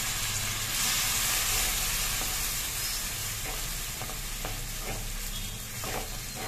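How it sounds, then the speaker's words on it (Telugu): Tomatoes and onions fry in a pan for a fish gravy, giving a steady close sizzle and hiss with soft stirring scrapes, and no talking. "ఇది బాగా వేగాలండి"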